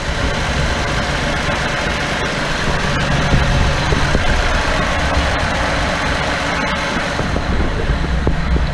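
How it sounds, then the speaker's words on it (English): A Datsun engine idles with its muffler deleted, a loud, continuous rough exhaust rumble with spitting from the open pipe and a faint ticking mixed in, steady throughout. "so it's spitting some exhaust out back there, and it's just making it sound really nasty"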